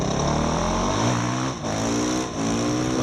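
A Husqvarna 450 racing motorcycle engine revs hard out of a corner, loud and close, with a sustained high whine broken by two brief dips where the rider shifts gears.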